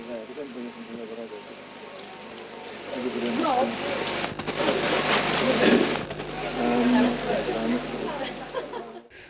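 Heavy rain pours down on an outdoor television set with crowded balconies, a dense steady hiss that swells in the middle, while someone talks over it throughout.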